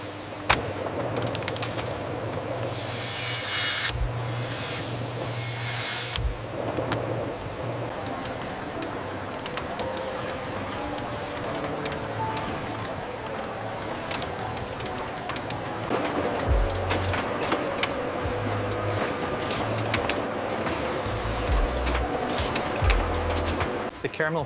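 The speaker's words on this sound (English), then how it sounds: "Utilizing cutting-edge technology, these machines swiftly slice the chocolate" Chocolate slicing machines run in a large chocolate factory, giving a steady, dense mechanical whir and rattle with occasional clatter that continues throughout.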